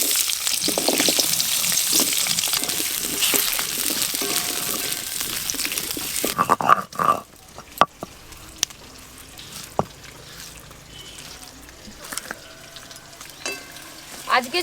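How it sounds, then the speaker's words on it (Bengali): Potatoes and ridge gourd fried in the same oil used for fish, a loud, dense hiss of hot oil for about six seconds, then quieter frying broken by sharp spatula knocks and scrapes. "ওই একই তেলে আলু ঝিঙেও ভালো করে একটু ভেজে নেব"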